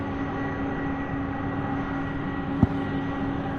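A UPS Airbus A300 jet at Louisville airport, bound for Billings, Montana, produces a steady, even engine drone heard from a distance, with one brief thump partway through.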